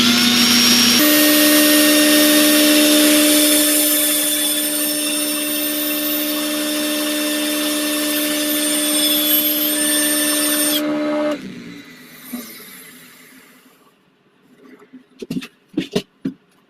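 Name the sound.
sanding the inside of a wood-turned piece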